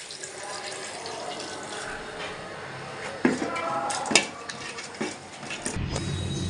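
Broth pours into beef curry as the meat finishes browning with potatoes in the pot, a steady wet rush and bubbling with a few sharp spoon or pot clinks.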